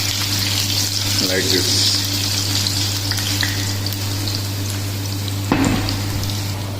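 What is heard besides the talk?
potatoes sautéing in a pan for dum aloo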